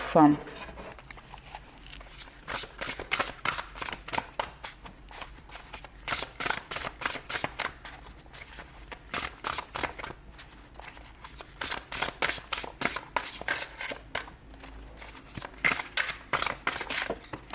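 Tarot cards shuffled by hand, a long run of quick, crisp riffling slaps in steady bursts with brief pauses, close and clear.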